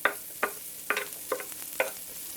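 Onions frying in a pan for a mushroom cauliflower risotto: a steady sizzle close up, broken by sharp stirring or scraping strokes about every half second.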